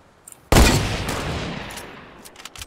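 Gunfire in Fortnite, a FAMAS-style rifle burst: one sharp, loud shot cracks out, then a long reverberant decay trails off over a couple of seconds, with faint game sounds around it.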